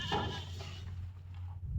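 A farm Ram goat bleats briefly nearby while being fed grass in the afternoon, over a low, steady hum in the background.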